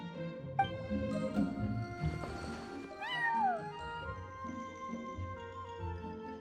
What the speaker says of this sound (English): that's a good kitty, Sir Pouncelot.